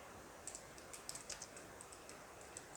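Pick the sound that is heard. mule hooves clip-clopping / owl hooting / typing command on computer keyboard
typing command on computer keyboard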